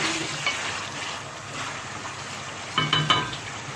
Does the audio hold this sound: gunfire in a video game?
no